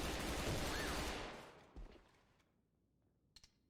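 Gunfire from a gun in the shooter game AVA Global: a loud, dense burst of rapid shots that fades out, followed by a couple of faint, sharp reports after a short pause.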